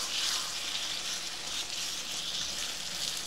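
Beef curry with spices sizzling steadily in a pan over high heat as it is stirred and fried, a continuous close hiss with no talking.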